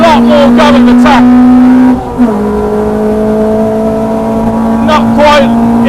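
A 250 bhp Renault Clio Mk3 R27 F1 with individual throttle bodies pulls hard on a race track, its loud engine note climbing steadily. It shifts up once partway through and keeps rising near top speed, with speech over it.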